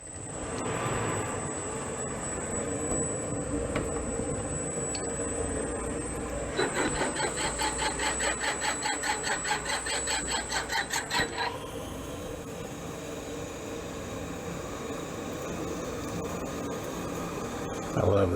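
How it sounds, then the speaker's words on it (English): Steady machine whir of a 3/8 chucking reamer cutting metal on a Waterloo Boy 5HP engine part, with a rapid rhythmic chatter for a few seconds in the middle before settling back to a smooth grind. "I love the sound of a reamer."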